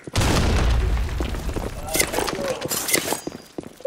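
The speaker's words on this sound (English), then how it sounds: "Fire in the hole!" A grenade explodes with a loud boom and rattling debris in the online shooter Blackshot, followed by scattered gunfire and clatter, with players talking over it.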